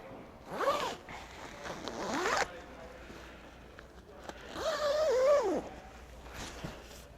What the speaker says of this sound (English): And when zipping it up,